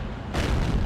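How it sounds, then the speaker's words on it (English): Tank cannon shot in World of Tanks from a Su-122-44, a sudden heavy boom hitting partway through and rumbling on to the end, loud and alone. "Bang. Oh, ricochet."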